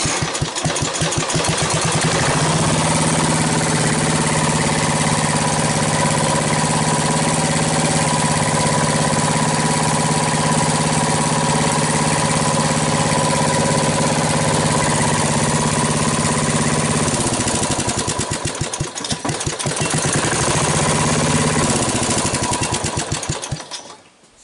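A Snapper riding mower engine runs and idles with a loud, steady mechanical drone close by. The engine note wavers and sputters briefly toward the end, then settles and fades as the clip finishes. No one speaks.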